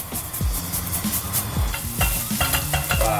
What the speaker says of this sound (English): So I'm gonna start heating up a soup pot. Some sunflower oil, because it's healthy.